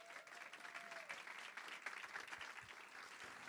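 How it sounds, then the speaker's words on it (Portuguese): Applause from an audience at a school violence-prevention forum after a student performance, sustained clapping heard at a modest distance with a faint brief tone at the start. "Aplausos."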